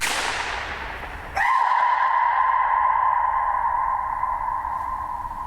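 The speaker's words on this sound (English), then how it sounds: "what you can hear are individual reflections of the sound. You hear echoes." A sharp sound rings out in an indoor hall, followed by a sustained reverberant tone and trailing echoes that hang and slowly fade over several seconds, with no voices.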